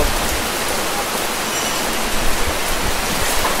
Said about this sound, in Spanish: está diluviando, eh, lloviendo a cántaros